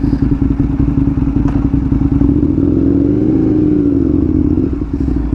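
An Aprilia RSV 1000R motorcycle engine runs loud and close, a deep steady rumble that swells slightly in pitch midway before settling, with no voices.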